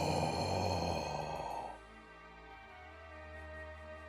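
A voice imitating a creature's loud breathing, one long breathy exhale that fades into a quiet, steady background drone.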